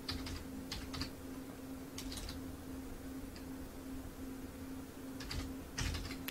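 Typing a disc name on a computer keyboard, with quiet, close key clicks in short bursts over a steady low hum.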